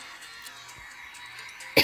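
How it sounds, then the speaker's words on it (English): A single sharp cough bursts out close to the mic at the very end, after a stretch of quiet background hum during a Goat Simulator gaming session. "Sorry, I had to cough."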